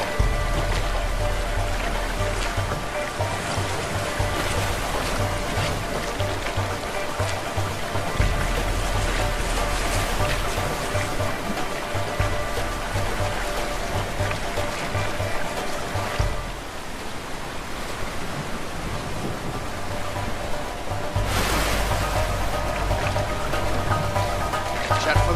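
In the video game A Way Out, a boat moves through rough river streams with a steady wash of rushing water and low engine rumble, continuous and fairly loud, with surges and shifts in the churn.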